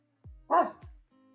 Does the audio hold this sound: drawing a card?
no